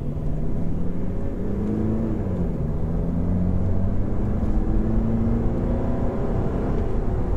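A 2021 Volkswagen Golf 8 accelerates from 30 to 90 km/h, engine note rising steadily as a smooth, moderately loud hum with tyre and road roar beneath, heard from inside the car without speech.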